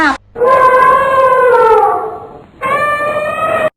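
Children in a kindergarten class imitate an elephant's call with their voices, a loud drawn-out wailing cry sustained for about two seconds, then a second shorter cry after a brief gap.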